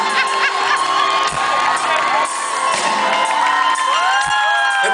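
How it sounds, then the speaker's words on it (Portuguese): An audience cheers and whoops loudly throughout, with shouting voices and bursts of applause filling the space. "Senhoras, esse aplauso tem que vir do fundo do coração."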